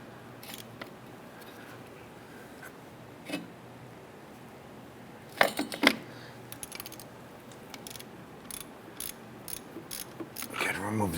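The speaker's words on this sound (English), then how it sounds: "Using our 3/8 ratchet extension and a 10mm socket." A 3/8-inch ratchet with an extension and a 10mm socket turns a bolt on a 2005-2007 Ford Five Hundred during knock sensor removal, giving faint intermittent clicks and a few louder bursts of mechanical rattling.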